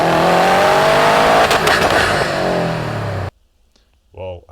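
A turbocharged car's engine, exhaust and turbo roar as it accelerates hard, loud and close, then cuts off abruptly, followed by a brief moment of someone speaking.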